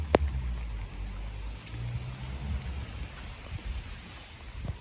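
Steady rain falls in a churchyard graveyard in the village of Eyam, a continuous soft hiss with low rumbling wind and a brief thump at the start.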